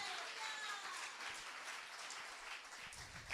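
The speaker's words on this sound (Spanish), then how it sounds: "Dele más palmas de alabanza al Dios maravilloso." A church congregation applauds in praise during a Spanish-language worship service, a dense, steady roar of many hands clapping that fills the room, with faint voices mixed in.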